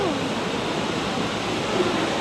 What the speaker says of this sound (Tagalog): Super lakas nga rin pala ng ulan.